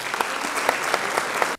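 An audience at a Turkish music choir concert applauds warmly, a dense, close wash of many hands clapping that cuts off abruptly at the end.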